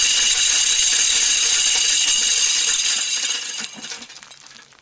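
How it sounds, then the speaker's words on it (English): An American Hunter hog feeder spins on its digital timer, scattering feed in a loud, steady whirring hiss with rattling grains for about three seconds before it winds down and fades. "the sound of the spinning feeder"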